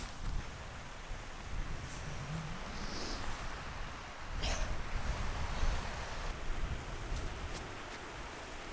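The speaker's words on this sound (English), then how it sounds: "Eventually, we came to the waterfall" Waterfall on Dartmoor, heard as a steady, broad rushing roar of falling water that holds at an even level for the whole stretch, with no talking over it.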